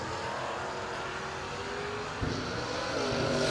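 A '68 Camaro SS and another heads-up dial-in drag car launch off the line, a dense, loud roar of racing engines swelling and holding steady with no talk.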